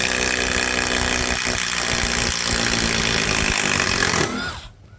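A DCA ADPL208 cordless brushless impact driver runs at about 2900 RPM with a loud, steady whir and buzz for roughly four seconds, then winds down and cuts off near the end.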